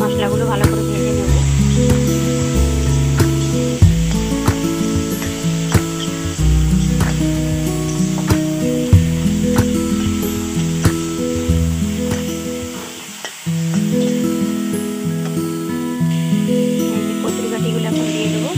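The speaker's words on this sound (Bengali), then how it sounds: "মশলাগুলো ভালো করে ভেজে নেব।" Spices fry in a pan for a taro and fish curry, a steady loud sizzle running throughout, with a cooking-show tune playing over it.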